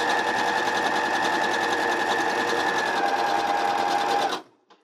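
A sewing machine stitches fabric for a face mask, its rapid, steady mechanical whir running close and unbroken for over four seconds before stopping abruptly.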